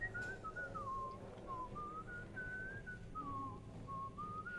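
Whistled melody from a video game character, a clear wavering tune of rising and falling notes over a steady low background hum, continuous and fairly close throughout.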